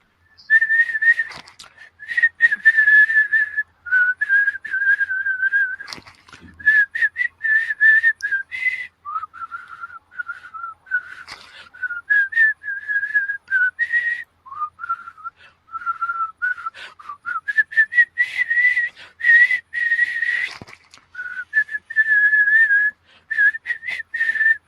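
A man whistles a hymn tune solo, clear bright phrases with short pauses between them, close and fairly loud throughout, no talk.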